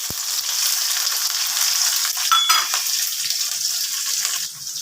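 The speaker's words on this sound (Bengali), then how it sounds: "এবারে দিচ্ছি পেঁয়াজ কুচি।" Chopped onion sizzles steadily in hot oil in a pan while cooking keema ghugni, a continuous close frying hiss with a brief stir near the middle, no talking.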